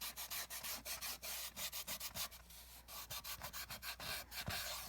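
An emery board rasps back and forth along the cut edge of a handmade two-band sandal, a close, quick, steady run of scratchy strokes that keeps going throughout without any voice.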